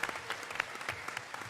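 An audience at BlizzCon 2017 claps in a dense, steady burst of applause, a close, full crowd sound with no break.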